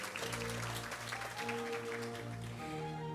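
Sustained audience applause fills a groundbreaking ceremony for a new drug-development cluster as guests are introduced, a dense steady clatter of many hands held under a low tonal hum of background music.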